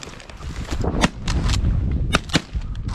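Shotgun blasts during an outdoor duck and goose hunt. Several loud, booming shots come in quick succession over wind and field noise.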